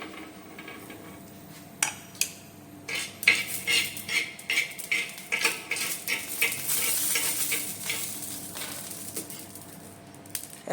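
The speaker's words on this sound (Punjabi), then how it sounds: "ਤੇ ਹੁਣ ਅਸੀਂ ਇਹਨੂੰ ਤੜਕੇ ਨੂੰ ਪਾ ਦਾਂਗੇ ਆਪਣੇ ਮਟੀਰੀਅਲ ਦੇ ਵਿੱਚ ਸਾਰਾ ਅੱਛੀ ਤਰ੍ਹਾਂ ਨਿਕਾਲ ਕੇ ਤੇ ਮਟੀਰੀਅਲ 'ਚ ਪਾ ਦਾਂਗੇ" Hot tempering is scraped from a pan into a bread-free sandwich mixture and stirred with a spoon. Metal clinks and scrapes sound close and irregular over a soft sizzle, with no voices.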